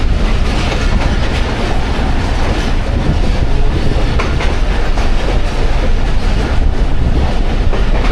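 Jaffar Express passenger train hauled by ZCU 26407 locomotive at speed between Attock and Rawalpindi, Pakistan: a loud, continuous rumble with steady rhythmic clickety-clack of wheels over rail joints throughout.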